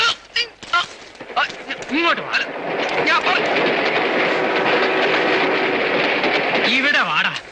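A train rolls along a railway track in a film scene, a loud sustained rumble and clatter rising in the middle, with people talking and shouting at the start and end.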